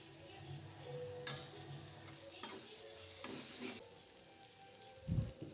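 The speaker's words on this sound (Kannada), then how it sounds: "ಸ್ವಲ್ಪ ಅರಿಶಿನ ಹಾಕಿ ಫ್ರೈ ಮಾಡ್ತೀನಿ" Tomatoes with turmeric fry quietly in a pan, a faint crackling sizzle with a few sharp spatula scrapes and taps, and a low thump near the end.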